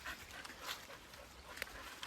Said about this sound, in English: You're one of my most favourite dogs